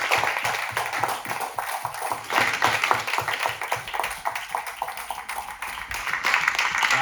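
A church congregation claps rhythmically in acclamation during a service, a steady, moderately loud beat of many hands over a bed of crowd noise and low music.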